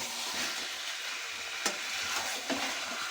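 Meat cooking in a pan for a home meal, a steady soft sizzle and frying hiss close by, with a couple of brief stirring scrapes and no voices.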